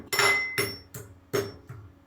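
Fried dried fish is pounded in a mortar: four or five heavy, dull thuds with short gaps between them, close by and loud, with nothing else heard.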